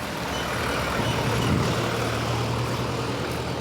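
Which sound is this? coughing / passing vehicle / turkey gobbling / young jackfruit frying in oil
passing vehicle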